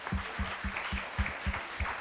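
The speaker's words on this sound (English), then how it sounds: "a round of applause for yourself" Audience at the Solar Decathlon India 2024 finals applauding, a modest, moderately distant patter of clapping with a few stronger, evenly spaced claps standing out.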